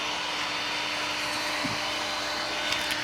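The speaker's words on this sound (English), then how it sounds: "Just make sure you keep that motion on the heat gun." Continuous broadband whoosh of a heat gun blowing hot air while peeling vinyl wrap off a car, a steady close roar with a brief faint shift partway through.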